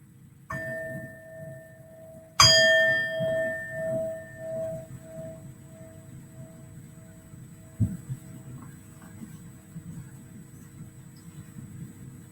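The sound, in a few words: bell rung to start a meditation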